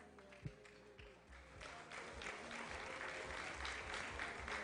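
An audience at a school quiz grand finale applauds a bronze-medal school, beginning with a few scattered claps and swelling into broad steady clapping; the level is quite faint overall.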